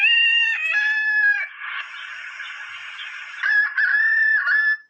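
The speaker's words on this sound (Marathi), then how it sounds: "आणि अशा पद्धतीनं ह्या कोंबड्याची जी बांग आहे" A rooster crows loudly and close, several drawn-out strained calls with a rougher middle section, sounding alone without talk.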